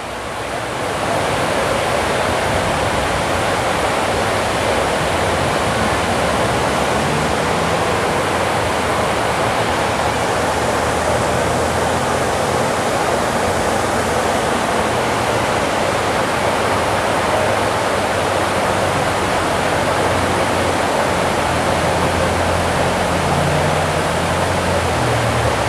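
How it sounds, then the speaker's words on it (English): Continuous loud roar of rushing water at the Fort Worth Water Gardens, a steady broadband wash close by with no pauses or voices. "The rushing of water right there."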